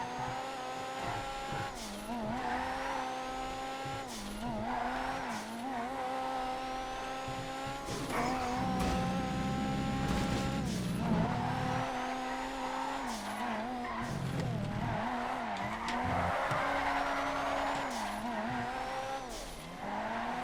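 Drift Tampa car in the GTA game, engine droning steadily with shifting revs and tire squeal as it slides, loud and continuous throughout with no talk.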